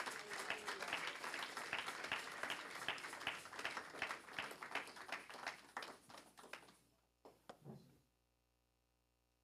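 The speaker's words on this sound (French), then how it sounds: "Est-ce que tu peux acclamer pour la parole?" A congregation applauding during a French-language evangelical church service: sustained, steady clapping from many hands that thins out and stops after about seven seconds, leaving a few scattered claps and near silence.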